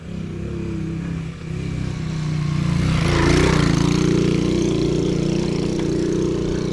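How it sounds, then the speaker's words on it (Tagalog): Motorcycle engines drone steadily and grow louder as bikes climb a mountain road toward Mt. Oro, a continuous low rumble swelling to a peak midway before holding strong. "pansin ko marami mga motor na pumupunta sa taas"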